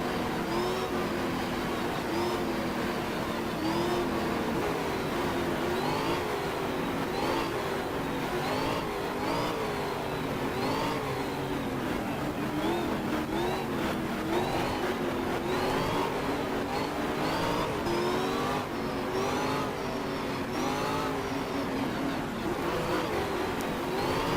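Race car engine in the racing video game GTR 2 at Watkins Glen, a continuous roaring drone that rises and falls through gear changes, steady and fairly close with no talking over it.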